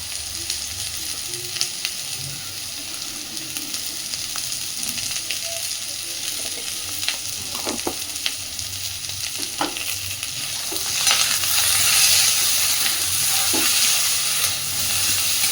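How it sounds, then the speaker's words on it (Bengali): Vegetables, including bitter gourd, sizzle steadily as they fry lightly in a pan with salt and turmeric. Occasional scraping stir noises sit over the continuous hiss, which swells louder toward the end. "মিনিট 2 সবজিগুলোকে একটু হালকাভাবে ভাজা করে নেব।"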